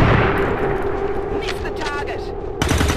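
Gunfire from the video game XCOM 2 rings out as bursts over a steady, dense game soundscape, with a sharper burst near the end and a voice talking throughout.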